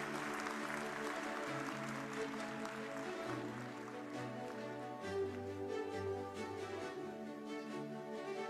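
An audience at a Diyarbakır award ceremony for mothers claps steadily and continuously, heard somewhat distantly under sustained background music.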